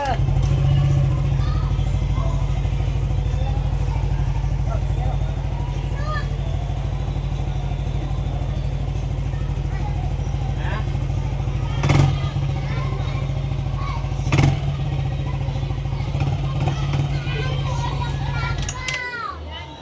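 A Yamaha Nmax V2 scooter engine runs steadily at idle after an ECU reflash, a continuous low hum that fills the whole stretch, with children's voices and chatter in the background and a couple of brief knocks.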